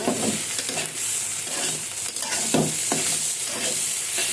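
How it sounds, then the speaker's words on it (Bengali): A pan sizzles steadily with frying bitter gourd while a utensil scrapes and stirs through it in repeated strokes. "ডালটা এখন বাগার দিব"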